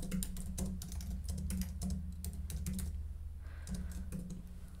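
Rapid clicking keystrokes on a computer keyboard, bursts of typing with a brief pause before resuming, close and clear with no voices.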